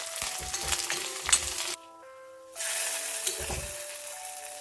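Curry leaves sizzle in hot oil in a pan with fried onions and chillies for a pumpkin and toor dal curry, a steady crackling fry with a brief quieter gap midway and occasional stirring.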